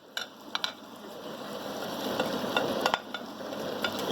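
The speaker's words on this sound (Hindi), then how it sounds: "इसको हम अच्छा सा मिक्स करेंगे।" Shredded cabbage and mixed vegetables being stirred in a pan produce soft scraping and rustling with a light sizzle, plus a few clicks and knocks of the utensil against the pan.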